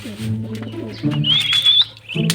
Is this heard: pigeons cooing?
yes